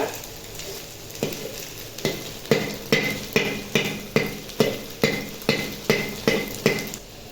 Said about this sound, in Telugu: ఎగ్గుని ఈ విధంగా తీసుకోవాలి ఇట్లా తిప్పుకొని పీసులుగా చేసుకోవాలి ఇలాగా